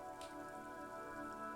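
Rain falling in the video game Disco Elysium over city houses, a faint, even patter with a sustained musical drone beneath, soft and continuous.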